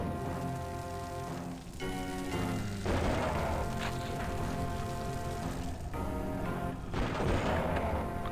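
Booming gunfire from shotgun-wielding cultists in the first-person shooter Blood fills the scene, repeated blasts and heavy rumbling crashes over a dense, loud game soundscape with no talk.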